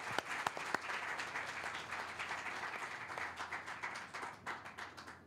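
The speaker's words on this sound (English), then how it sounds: "if you could please give a round of applause." A crowd applauds steadily for several seconds, dense clapping with a few sharper claps near the start, no talking over it.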